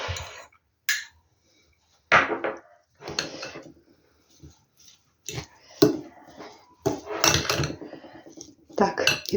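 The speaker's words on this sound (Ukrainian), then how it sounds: "Так гарненько трішечки його тут вилочкою зіб'ю" Fork clatters against a bowl in short bursts of scraping and tapping while whisking an egg, with pauses between, close by.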